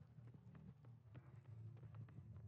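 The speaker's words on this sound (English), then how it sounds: "I'm hearing footsteps everywhere in this place." Footsteps in Dead by Daylight, a run of quick thudding steps that repeats steadily over a low ambient hum, fairly quiet and close, with no talking.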